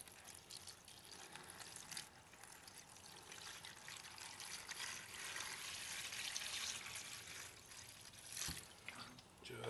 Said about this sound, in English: I'm going to pour in some HCl.